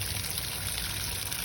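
Water drains from the water heater tank of a 2020 Funfinder 28QD travel trailer in a steady, close, rushing pour that never lets up.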